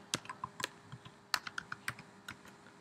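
A password is typed on a computer keyboard in a Linux terminal: a quick, irregular run of about a dozen sharp, close key clicks with short pauses between them.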